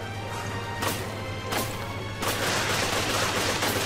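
Gunfire in the video game Resident Evil Revelations comes as sharp, loud crashing bursts, with separate blasts near the start and then a denser, sustained barrage to the end.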